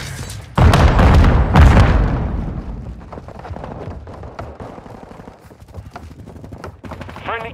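Gunfire and a stun grenade blast in Call of Duty Modern Warfare II: two loud close booms open the scene, followed by scattered shots and rattling bursts that fade into quieter combat noise.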